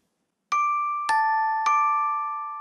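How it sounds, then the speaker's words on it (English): High-pitched bell tone struck three times at even intervals, each ring clear and bright with a long decaying sustain over silence. "Did you hear the high bell?"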